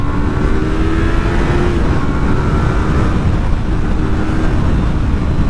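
A Yamaha R3 YZF motorcycle engine held at high revs, a loud, steady, close buzzing roar with a slight pitch shift partway through, continuing without pause and with no talk.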